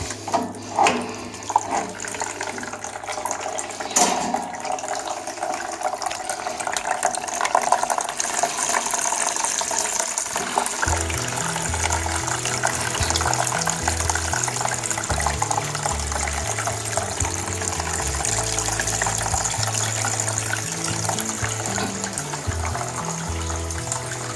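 Water drains from a home radiator into a bucket, a continuous splashing gush that runs steadily throughout, with some knocking and handling noises early on and a lower hollow filling tone later.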